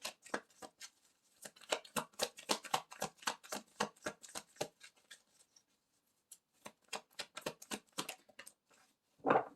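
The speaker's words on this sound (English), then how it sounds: "I hope that the shuffling isn't too loud" Rapid riffling clicks of tarot cards being shuffled, in quick bursts with a short pause near the end, close and quiet, no talking.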